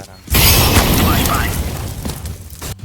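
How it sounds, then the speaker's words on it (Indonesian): A flashbang grenade goes off in a video game as one loud, sudden boom that hangs for over two seconds and slowly fades, ending in a short sharp click. "deploying flashbang."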